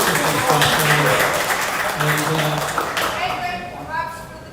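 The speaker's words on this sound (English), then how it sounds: "Quick round of applause on both of our speakers." Applause from an audience at a Nerd Nite Memphis talk night rises for the speakers, mixed with voices and chatter, then thins out as the clapping fades near the end.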